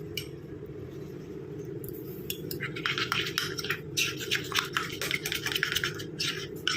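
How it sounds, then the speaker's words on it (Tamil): Gram flour and potato juice stirred into a paste in a small bowl: rapid, light clinks and scrapes of a spoon against the container, growing busier and more continuous over a low steady background hum. "ஆட் பண்ணிட்டு நல்லா மிக்ஸ் பண்ணிக்கலாம்."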